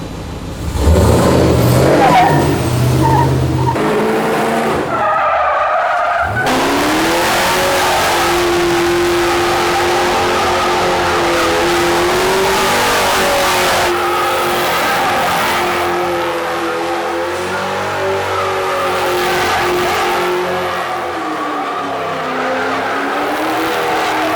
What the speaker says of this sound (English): do donuts now